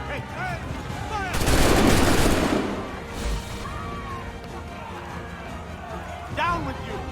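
A musket volley roars out in Assassin's Creed III, one dense, loud burst lasting about a second, with shouting voices and battle noise around it before and after.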